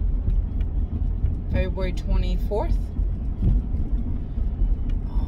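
A work vehicle is driven along a road, its engine and road noise forming a steady low rumble from inside the cab, while someone talks over it.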